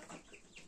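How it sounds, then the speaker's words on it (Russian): Roosters on a farm give a short burst of clucking and crowing, close and fairly quiet, with no talk. "Все три петуха поют."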